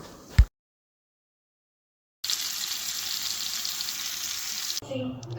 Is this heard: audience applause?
no